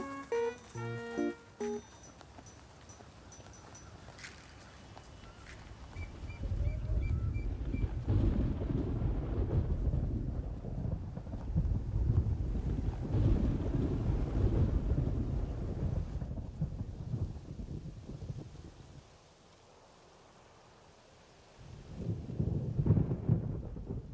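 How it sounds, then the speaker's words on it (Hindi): A thunderstorm with rain builds into a steady heavy downpour and rolling thunder outdoors, broken by a short lull before the roar returns. Brief tonal sounds play at the start. "बारिश होने वाली है।"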